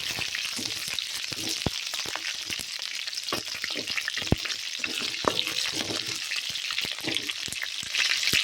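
Garlic, cinnamon, chillies and tomato sauté in a pan for a herbal rice-ball dish, producing a dense, continuous sizzle broken by sharp spatula taps and scrapes, close and fairly loud, with no talking.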